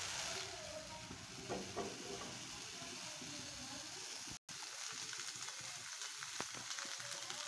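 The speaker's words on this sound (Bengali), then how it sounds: "আমি এখন ফুলকপিটা ভেজে নেব সুন্দর মতো।" Cauliflower stalks fry in a pan with a faint, steady sizzle and hiss, with light stirring and a momentary dropout partway through.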